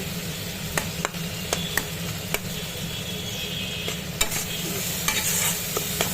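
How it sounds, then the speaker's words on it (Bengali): Spices and tomatoes sautéing in a pan, a continuous low sizzle with scattered sharp clicks of a spatula stirring and scraping the metal, close and moderately quiet, no voices. "এবার কষাতে থাকি সব মশলাগুলো ভালো করে নাড়ি"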